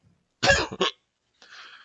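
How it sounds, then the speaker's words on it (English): A single sharp, close cough with a quick double burst, followed by a softer breathy exhale after a brief pause. "sorry guys, vodka cough"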